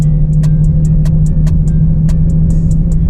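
A Nissan 300ZX engine running as the car is driven, a loud, steady low hum with rhythmic ticking or tapping over it, no talk.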